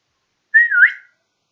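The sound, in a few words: person whistling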